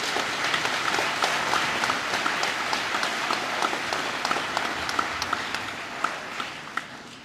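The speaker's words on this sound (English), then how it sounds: "Graduates, please join me in a huge round of applause for the St. Moriches staff and all the families who made this day possible." A large graduation crowd at a high school ceremony applauds staff and families, steady dense clapping that carries on evenly and fades slightly toward the end.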